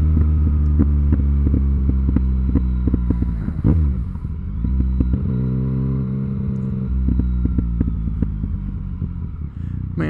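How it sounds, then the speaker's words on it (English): A 2018 Yamaha MT-09 motorcycle engine hums steadily while riding, close and loud, with a brief dip in revs around the middle before pulling back up, wind rushing underneath throughout. "man, I can't get over the sound of this bike."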